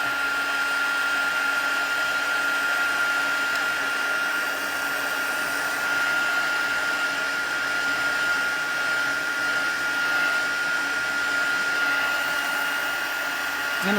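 A heat tool blows steadily to dry wet paper that is held down with a pick tool, giving a continuous even whir with a constant high whine, close and loud, with no break throughout.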